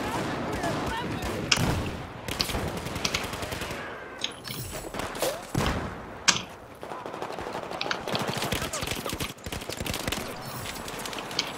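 Sustained automatic gunfire from the shooter Battlefield 4 rattles in dense bursts with sharper single cracks between, loud and close, while a player talks over the shooting.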